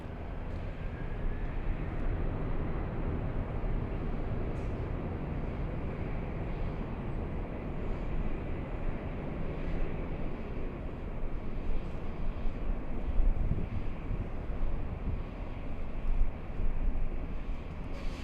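A Delta jet airliner taking off from runway 24 left at LAX, a heavy continuous low roar that rumbles steadily and swells slightly toward the end, heard from a distance with some wind buffeting.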